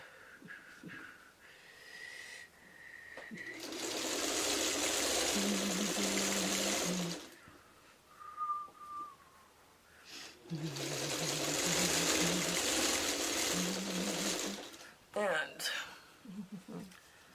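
A sewing machine stitches a potato chip quilt block in two long steady whirring runs of rapid needle rhythm, with quiet talk in the pauses before, between and after.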